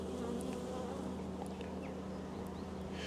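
Honeybees buzzing in a steady, close drone during a spring inspection of a Mini Plus hive, with a few brief sharper sounds from handling the boxes and no talk.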